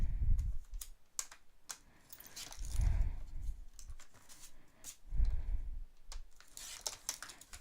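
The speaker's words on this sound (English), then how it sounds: "I just need to trim it, so I'm just going to grab my trimmer" A paper trimmer cutting a birthday card: close, crisp clicks and slides with a few heavier thumps spaced a couple of seconds apart, and no talking.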